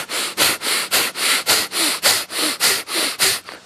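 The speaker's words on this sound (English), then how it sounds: "we'll start to do breath of fire" Rapid sharp nasal breaths of yoga breath of fire, about a dozen even rhythmic puffs through the nostrils, close and clear with no talking.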